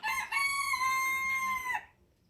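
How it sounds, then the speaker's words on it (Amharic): A single rooster crows loudly and close by, one long drawn-out call that cuts off abruptly into quiet. "ይሄ ዶሮ ጩኸትም ስሙ በዛው"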